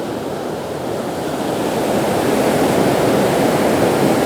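The loud waterfall at High Falls, Alabama, heard up close as a continuous, powerful roar of rushing water that swells slightly louder throughout, with no voices.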